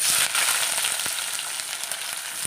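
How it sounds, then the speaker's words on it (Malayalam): Onions frying in hot oil with cinnamon and star anise for a beef curry, giving a steady, bright sizzle with a few faint stirring clicks, close and continuous. "ഇനി ഇത് സവാള ചേർത്ത് കൊടുക്കാം"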